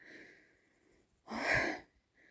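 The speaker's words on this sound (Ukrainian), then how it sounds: "Фу, це захекалася, дихання нема." A woman out of breath after a strenuous outing breathes heavily, with a soft breath followed by one loud, rasping exhale close to the microphone.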